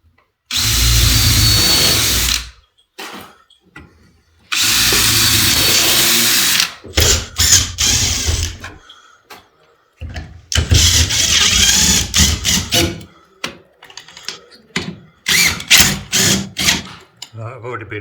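Power drill driving screws into a bedroom wall during a bed and shelf build, loud bursts of a few seconds each separated by pauses, with shorter stop-start trigger pulls later.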